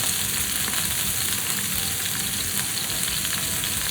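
Beef sears in hot oil in a single pan for beef and broccoli, a steady, dense sizzle and crackle heard close up and unbroken, with no voices.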